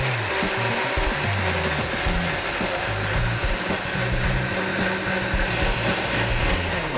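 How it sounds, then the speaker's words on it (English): A countertop blender whirs continuously, loud and close, puréeing vegetable stock and non-dairy milk into a smooth vegan sauce, its motor pitch wavering slightly as the liquid churns. "now we'll just blend this up until it's really smooth"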